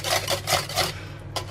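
A whisk scrapes through coconut flour bread batter after salt and stevia go in, making about five quick rhythmic rasping strokes, close and fairly soft, with no talking.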